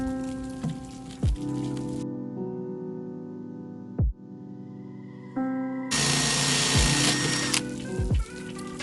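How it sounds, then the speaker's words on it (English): A drill bores a hole through the glass of an aquarium, its tonal whine running in stretches broken by sharp clicks and pauses, with a brief burst of hissing noise near the end. "Gonna keep drilling."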